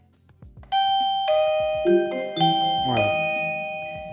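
A Tuya connected video doorbell chime rings out loud and clear in a two-tone ding-dong that repeats and lingers, with a brief word of speech at the very start.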